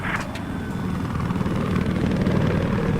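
An enemy helicopter in a video game drones steadily with a loud, continuous low rotor rumble that holds at even volume throughout, with no talk over it.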